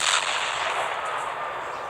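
A cannon fires in a Minecraft PE 1.18 addon game, one sharp loud boom followed by a long hissing, rumbling decay that fills the whole moment, with no talking.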